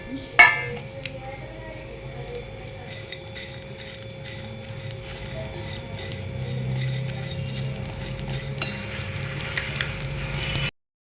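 Whole spices, including black peppercorns and mace, dry-roast in a heated pan with a faint, steady sizzle and light rattling, opened by one sharp clink, then an even low hiss that stops abruptly.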